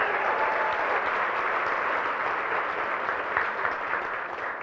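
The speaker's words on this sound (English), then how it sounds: "Let's give Landry a round of applause." An audience at a school board meeting applauds to honor a student wrestling champion, a steady wash of clapping that holds for several seconds and eases slightly at the end.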